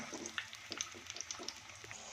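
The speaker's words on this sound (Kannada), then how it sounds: "ನೋಡಿ ಫ್ರೆಂಡ್, ಹುರಿತಾ ಇದ್ದೀನಿ" Mirchi bajji, batter-coated chillies, frying in hot oil make a faint, close bubbling sizzle dotted with small irregular pops and crackles.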